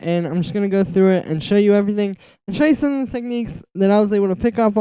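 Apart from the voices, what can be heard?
None of the usual background noises is heard.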